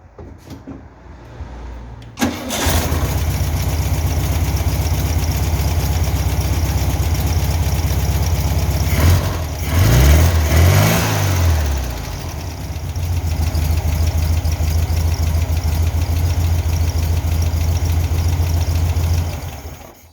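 A Volkswagen Beetle engine, just fitted with electronic ignition, starts up and settles into a steady, loud, even idle that holds for well over fifteen seconds, with a brief rev-like swell partway through and no talk over it.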